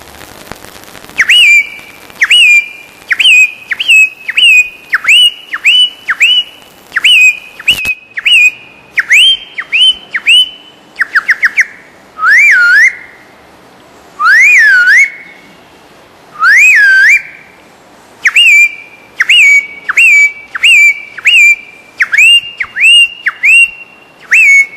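A person whistles an imitation of a robin's call at a Dominica bird-whistling contest, loud and close, repeating short rising and falling phrases in quick bursts with brief pauses.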